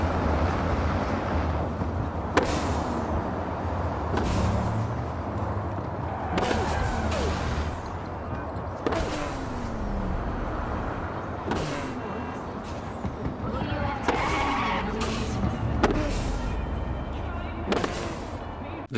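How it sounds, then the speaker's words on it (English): A Mitsubishi-style car engine in the Cyberpunk 2077 video game revs and climbs, broken every couple of seconds by sharp, loud, gunshot-like cracks at each gear change, with the engine droning steadily between them. "They have also, I think, slightly adjusted the engine noises of some of the cars, particularly this Matasanitsu"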